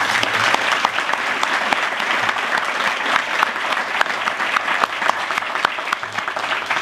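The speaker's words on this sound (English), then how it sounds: "Please give a round of applause to these innovative finalists" An audience at the 2016 Governor's Energy Excellence Awards applauds the finalists, a sustained, even clapping that fills the room at moderate volume without letup.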